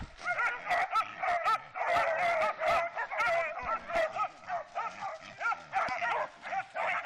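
Puppies of a hunting dog breed bark in a rapid, overlapping chorus of high yips and whimpers, close and loud, near a boar in an outdoor setting.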